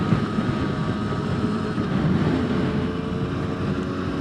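A 2022 Rieju MRT 50 LC 50cc motorbike being ridden, a steady engine drone mixed with heavy wind rush at the microphone, without clear breaks where the gears change.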